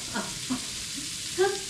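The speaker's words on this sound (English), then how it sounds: "All right, we are sizzling away. We've got this on high." Food frying on high heat in a home kitchen, a faint steady sizzle and hiss with a few soft clatters and bumps over it, close and low in level.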